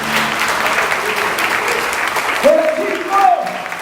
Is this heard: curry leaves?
no